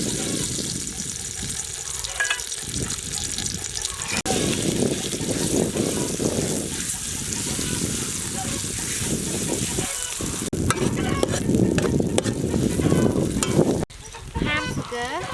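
Chopped dry chili frying in hot soybean oil, a steady close sizzle and crackle that swells louder midway, with a brief clatter near the end and some speech over it.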